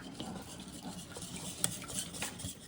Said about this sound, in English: we're going to give this a good whisk up